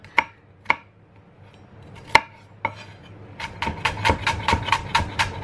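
A knife chops a very small onion on a cutting board: a few isolated, spaced knocks, then a quicker run of rapid, even taps, close and crisp with no talk.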